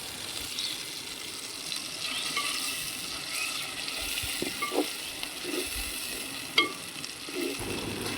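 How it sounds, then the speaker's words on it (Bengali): Dried fish paste is stir-fried in a kadai with a constant low sizzle, broken by occasional scrapes and clinks of the spatula against the pan. No one speaks. "এখন এই যে মাছ বাটাটা আমরা দিয়ে দেব দিয়ে ভালো করে কষিয়ে নেব"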